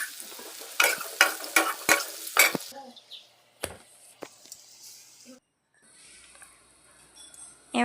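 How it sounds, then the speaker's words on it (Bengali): Potatoes frying in oil with salt and turmeric are stirred in a pan, giving several loud scraping stirs over steady sizzling, then quieter frying with occasional clinks. "দিয়ে এবারে আলুগুলোকে এভাবে নেড়ে ছেড়ে ভালোভাবে ভেজে নেব।"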